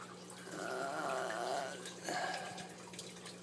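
Small albino turtles are set into water, producing soft close gurgling and sloshing splashes in two short bursts, with quiet dripping after.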